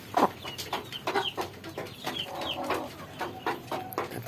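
A chicken with swollen, watery eyes from snot disease clucks and squawks in short repeated bursts while being held for eye-drop treatment, close by, with rustling between calls.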